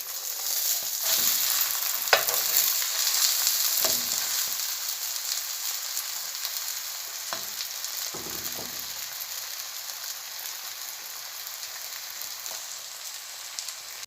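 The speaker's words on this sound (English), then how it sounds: "we are going to be flipping the egg to the other side" An egg frying in a pan for a chicken wings noodle dish, a steady bright sizzle throughout, broken by a few soft scrapes and taps as it is flipped to the other side.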